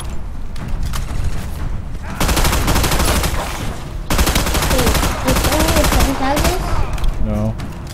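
Sustained automatic weapon fire from the Battleship video game, dense rapid bursts filling most of the stretch with a short break, loud and close, while voices talk briefly over the shooting.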